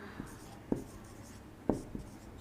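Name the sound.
writing on paper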